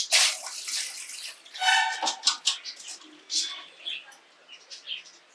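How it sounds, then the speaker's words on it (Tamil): Water is poured over raw crab being cleaned in a kitchen, a splashing gush that runs for a moment before a voice talks over softer trickling and handling sounds. "நீங்க கொஞ்சம் தண்ணி ஊத்தினாலே அது வர ஆரம்பிச்சிடும் இந்த எல்லோ எல்லாம் வந்து ஈஸியா."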